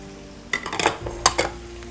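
Eggplant and capsicum fry in a pan, with a sizzle under several sharp scrapes and clatters of a spoon stirring against the metal. Loud, close and without talk.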